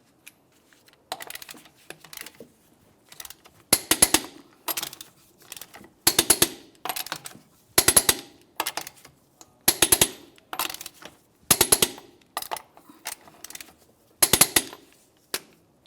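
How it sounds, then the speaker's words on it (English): Torque wrench working the lug nuts on a 2000-2006 Chevrolet Tahoe wheel in a crisscross pattern, giving sharp clicking bursts that repeat every second or two, close and clear, with quiet gaps between. "let's torque these in a crisscross manner"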